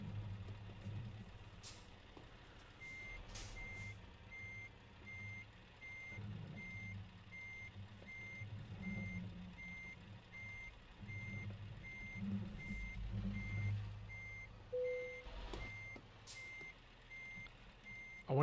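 A truck reversing in Euro Truck Simulator 2 gives a steady, regularly spaced series of high beeps over a low engine rumble, fairly quiet throughout.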